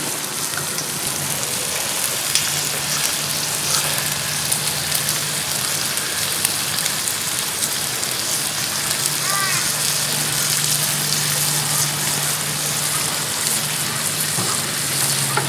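King prawns glazed with honey, ginger and sesame seeds sizzle in a hot frying pan, a continuous crackling hiss with small pops that holds steady and close throughout.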